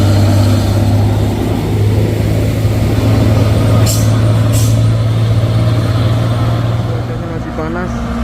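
An Isuzu Isoteng 6x2 220 PS truck labouring up the Bukit Kodok hill road, a loud, steady low engine rumble with two short hissing air-brake bursts in the middle and a voice talking over it.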